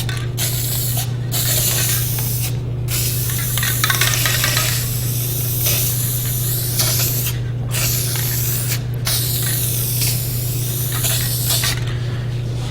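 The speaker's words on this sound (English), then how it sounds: "Now we're gonna start out with some spray paints." Steady hissing spray from a spray paint can, close and loud, running continuously with brief pauses and faint rattling, under a constant low hum, over an epoxy countertop.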